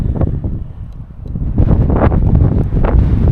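Wind gusting across an exposed Pennine Way wild campsite, roaring and buffeting the microphone in a loud, continuous rumble that swells stronger partway through.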